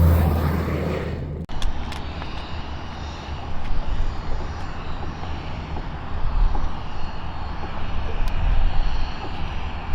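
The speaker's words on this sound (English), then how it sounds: "We have a 2016 SR22 Turbo." Engine of a 2016 Cirrus SR22 Turbo G5 propeller airplane, a loud, continuous close drone with a steady rumble that holds throughout after an abrupt cut near the start.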